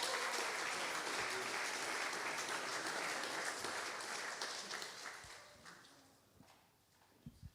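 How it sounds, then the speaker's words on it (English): A crowd at a business seminar applauds with dense, steady clapping that gradually fades out, leaving a few scattered claps at the end. "I'd like to do a big round of applause for Michael Sartain."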